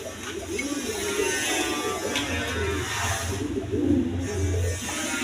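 A pair of Bashiraj Koka pigeons at a pigeon farm coo in low, throaty rolling phrases that rise and fall, close by, over a faint steady mechanical hum.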